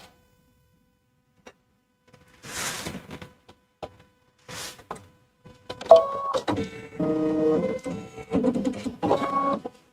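A home embroidery machine stitches the dense fill section on the lid of a gift card holder, running in short rhythmic mechanical bursts with pauses between them, close and moderately loud, with no talking.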